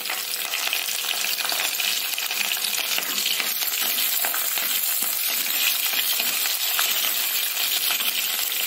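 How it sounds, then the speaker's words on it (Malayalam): Green chillies and ginger fry in hot oil for a Kerala-style spiced buttermilk dish, giving a steady, loud, close sizzle and crackle with no talking. "നമുക്കിനി 2 പച്ചമുളകും കൂടെ ചേർത്ത് കൊടുക്കാം."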